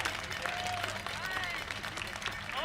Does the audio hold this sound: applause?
yes